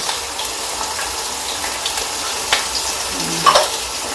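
Kaleji masala spices, including red chili, turmeric, green chili, roasted cumin and dried coriander, roasting in a pan with a steady, soft sizzle and a few faint stirring scrapes, no one speaking.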